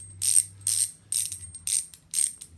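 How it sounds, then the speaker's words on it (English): A Madera V2 bicycle cassette hub with chromoly pawls ratchets loudly in five sharp, buzzing bursts of rapid clicking, each followed by a short pause, close to the microphone with a faint low hum underneath. "notice how like this hub sounds really loud."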